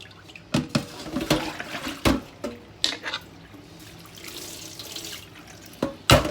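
Cooked rice is rinsed under running water and left to drain, giving a close splashing stream broken by several sharp knocks and spatters, with no talk.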